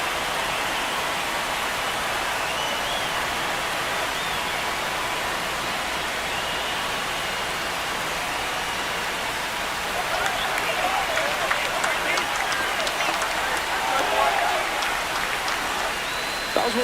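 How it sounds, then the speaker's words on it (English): Simulated stadium crowd roaring after a home run in a New York Yankees versus Tampa Bay Rays baseball video game, a dense sustained cheer that swells louder in the second half, with faint commentary voices underneath. "This crowd has really come alive."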